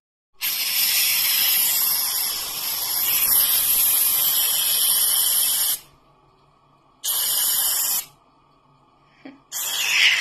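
Hair spray hisses from an aerosol can close by, first in one long steady burst, then in two shorter bursts with quiet pauses between them.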